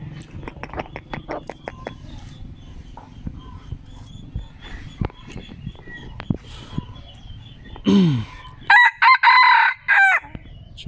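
Chickens cluck softly in a yard, then a rooster lets out a loud, close crow, followed by a second drawn-out crow.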